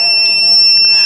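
A bursting strength tester for packaging material gives a continuous high electronic beep after the sample bursts. The steady tone holds at even loudness for the whole moment.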